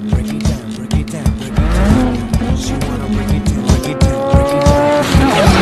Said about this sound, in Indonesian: dari belakang mobil dengan kecepatan tinggi menyalip mereka